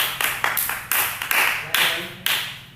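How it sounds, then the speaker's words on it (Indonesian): Hands clap in a classroom in an uneven series of sharp, close claps, about eight strikes spread over a few seconds. "Oke, tepuk tangan."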